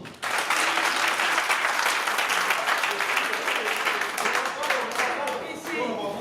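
Dense audience applause fills the room, steady and loud for several seconds, with a few voices faintly underneath.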